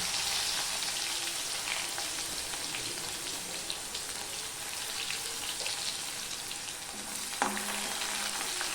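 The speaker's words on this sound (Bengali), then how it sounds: "তেলটা হয়ে যাওয়ার পরে কালো জিরাটা হয়ে গেছে এবার আমি দিয়ে দিচ্ছি রসুন" Garlic dropped into hot oil already fragrant with black cumin (kalo jeera) sizzles and fries steadily while a Pabda fish curry is being prepared, with a brief stirring clatter near the end and no talking.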